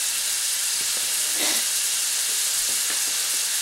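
Deer heart and onions frying in a pan over medium-high heat, a steady close broadband sizzle with faint stirring clicks throughout, no talking.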